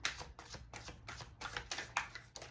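Rune stones are shuffled by hand in a quick series of clattering rattles and clicks, soft and close, with no talking.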